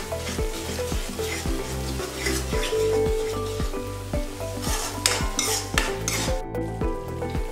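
Ginger-garlic paste cooking in a pan for chole masala: a steady sizzle with repeated scrapes and clinks of a spoon stirring against the metal pan, with a sustained tonal hum running underneath.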